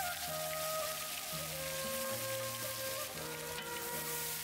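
Asafoetida and garlic paste sizzle in hot oil, a steady, loud crackling hiss that runs the whole time. Steady tones underneath, with no talk.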